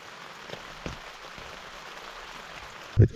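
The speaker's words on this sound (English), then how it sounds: "It just started raining again." Rain patters steadily on a tent during an overnight camp in a cheap $14 tent, a soft continuous hiss of drops with a few sharper taps and a louder thump near the end.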